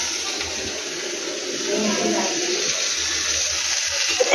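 Water pours into a pan of chital fish belly curry cooking with oil and raw tomato, making a steady, close splashing rush that lasts a few seconds.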